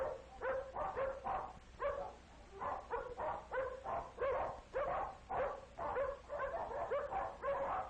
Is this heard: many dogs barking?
yes